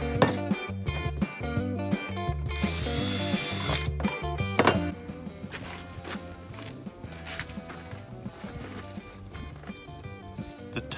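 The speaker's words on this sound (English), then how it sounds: "I'm gonna drill that hole and then put it back on the car" Power drill whirring in several bursts, drilling a hole for a battery strap on a Ford Pinto, the motor pitch shifting between runs, mixed with clatter and shuffling footsteps nearby.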